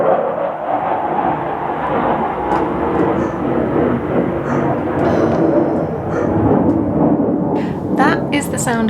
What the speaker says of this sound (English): That is the sound of jets